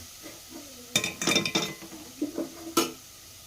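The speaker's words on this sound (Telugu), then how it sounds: "ఫ్రెండ్స్ ఇదిగోండి నేను రైస్ వేసాను, ఇది మిక్స్ చేస్తున్నాను." A spoon stirs cooked rice with carrot in a metal pan, producing irregular close scrapes and clinks in short bursts, with one sharper clank near the end.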